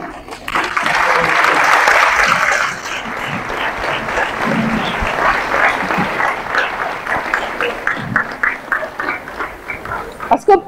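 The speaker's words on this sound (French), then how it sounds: "Et le président, on va l'applaudir." A student audience at a university event applauds Senegal's National Assembly president Malick Ndiaye: a burst of loud crowd clapping, then a quieter stretch of mixed voices and scattered claps that rises into rhythmic, spaced clapping near the end.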